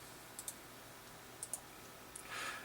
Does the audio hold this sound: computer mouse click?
yes